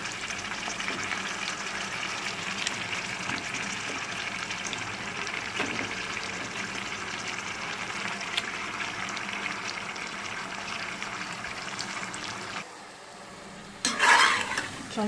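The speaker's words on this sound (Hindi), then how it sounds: "अब इसमें गोश्त ऐड करेंगे।" Meat being added to a pot of curry, a steady sizzle with scraping stirring sounds throughout, then a sharper burst of sizzling near the end.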